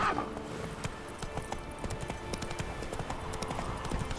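Roach gallops in The Witcher 3, her hooves beating a quick, continuous rhythm up close, with a faint snort at the start and ambient game sound behind.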